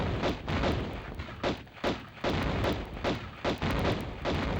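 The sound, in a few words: gunfire in Tomb Raider PS1 video game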